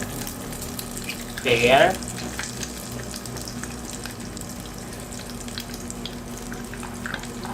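An egg dropping into hot oil in a Lazada multicooker bursts into a loud, brief sizzle, then settles into a steady frying hiss, with a single short word spoken.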